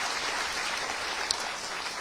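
A book-talk audience in Busan claps together for a couple of seconds, a soft, even patter of many hands heard from some distance, with no talking over it.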